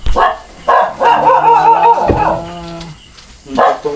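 A dog barks repeatedly at close range, loud yips and barks in uneven bursts with short gaps, with faint background voices.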